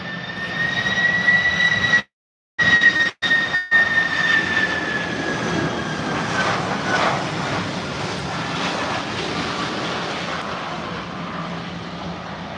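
A Delta Boeing 767 jet at London Heathrow airport gives a loud, steady engine roar with a high whine, broken by a brief dropout before the roar carries on.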